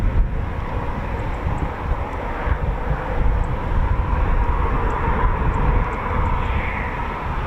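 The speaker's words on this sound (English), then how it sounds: "Yep, Typhoon taxiing. Yeah, it's taxiing." A Eurofighter Typhoon FGR4 jet taxis at an RAF station, a steady loud engine roar with a high whine, continuous and broad, with wind buffeting the microphone.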